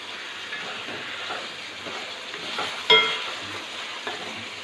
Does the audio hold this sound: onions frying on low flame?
yes